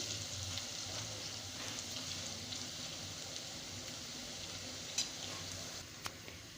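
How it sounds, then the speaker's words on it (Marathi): Two medium onions, finely chopped, sizzle steadily in a hot pan while being sautéed until light brown for a sprouted moth bean curry, a continuous close fry with a few soft stirring knocks. "कांदा छान हलका ब्राऊन रंग येईपर्यंत परतून घ्यायचा"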